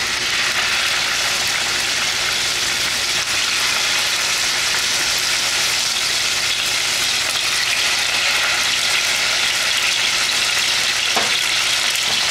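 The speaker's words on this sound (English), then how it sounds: "Then I want to get my chops started to brown. I got about 1/4 cup of hot canola oil in here." Pork chops browning in about a quarter cup of hot canola oil in a pan, giving a loud, steady, close sizzle and crackle that runs unbroken with no talking.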